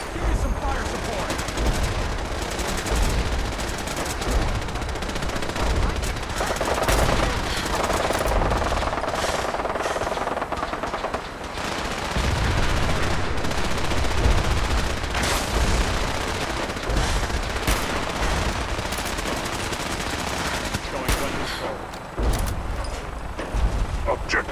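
Dense, continuous gunfire and explosions in a Fallout 4 battle, rapid bursts layered over booming impacts throughout, with voices calling out over the combat.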